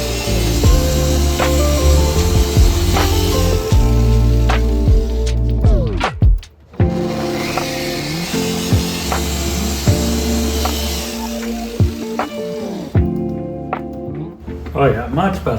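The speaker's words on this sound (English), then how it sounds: "I'm gonna polish this out and try to get it popping again" Buffing scratches out of Maserati Quattroporte bodywork, a close, steady grinding whirr with rhythmic rubbing strokes that stop briefly near the middle, while a person talks over it.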